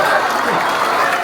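A live audience at a roadside attraction show gives a short burst of applause, a loud, close, steady wash of clapping with crowd murmur mixed in.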